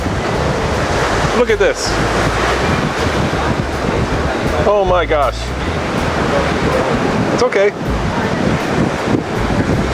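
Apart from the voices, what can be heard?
ocean waves and wind at a secluded beach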